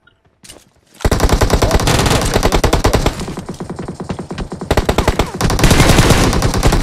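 Enemy gunfire in PUBG Mobile, dense rapid automatic bursts that start abruptly after a brief quiet and keep pounding loudly and close, with short dips between volleys.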